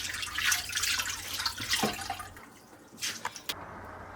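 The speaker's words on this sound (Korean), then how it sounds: "물기를 완전히 짜냅니다." Washed cheonggak seaweed is wrung out by hand, giving soft wet squelches and trickling, dripping water, with a few sharper splashy drips near the end, close and fairly quiet.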